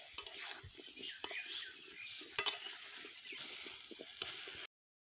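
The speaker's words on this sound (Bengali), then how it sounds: "এই সময়ে জল ঝরিয়ে রাখা এঁচড়গুলো দিয়ে দিতে হবে আর খুব ভালোভাবে মিশিয়ে নিতে হবে" Drained jackfruit pieces being stirred into gravy in a pan: soft scraping strokes and wet squelching come in irregular bursts over a light sizzle, with a few sharper utensil knocks against the pan.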